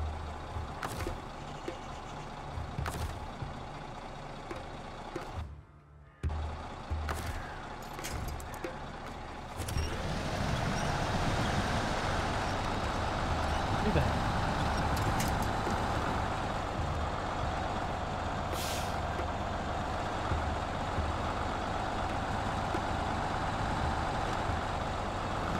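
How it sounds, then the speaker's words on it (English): Truck in SnowRunner driving with a steady low engine drone, a brief dropout, then a louder, denser rumble building and holding for the rest of the stretch. "we'll use this truck"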